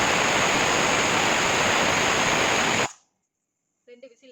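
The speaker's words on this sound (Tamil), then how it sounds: "இது வந்து 2வது விசில் வரப்போகுது" A pressure cooker cooking mushroom biryani vents steam in a loud, steady, close hiss for about three seconds, then cuts off abruptly, leaving near silence and a few faint clinks.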